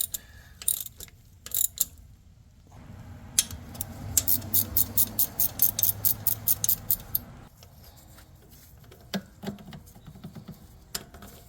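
A hand ratchet loosens the AC compressor bolts on a 2020 Chevy Express 3500 van with a 6.0L engine, first in a few separate clicks, then in a rapid, even run of close clicking strokes, followed by scattered clicks and tool handling.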